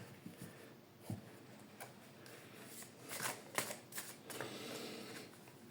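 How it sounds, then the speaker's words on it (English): Oracle cards being shuffled by hand, a soft papery riffle and flutter in a few short bursts with small taps between them, close and quiet with no speech. "I'll pull a few cards from the Akash."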